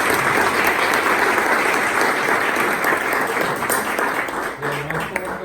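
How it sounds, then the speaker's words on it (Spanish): An audience applauds after a university lecture on exorcisms in the New Testament, a dense, loud wash of clapping that stays steady and then thins slightly toward the end. "agradecemos al profesor Hansen con un fuerte aplauso"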